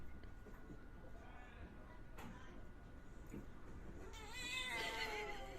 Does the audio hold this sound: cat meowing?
yes